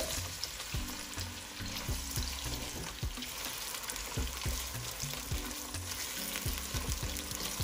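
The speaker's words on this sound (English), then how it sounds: "We're gonna be frying this for about 5 minutes till the onions become translucent." Onions sizzle and crackle steadily in a hot pan with salted fish, with occasional stirring scrapes and clinks throughout; no voices.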